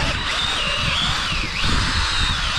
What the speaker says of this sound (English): I'll drill a hole here